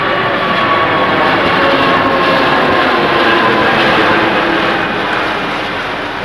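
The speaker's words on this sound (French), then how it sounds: "Et voici le bruit de l'A380 lors du second vol d'essai d'aujourd'hui." An Airbus A380 on its second test flight, heard from near the runways, produces a loud, continuous broadband roar that holds steady for several seconds before easing slightly at the end.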